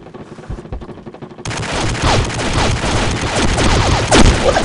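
Loud, dense video-game gunfire erupts after a quieter start, with rapid automatic bursts and sharp shots overlapping in a continuous barrage until the end, with no talking.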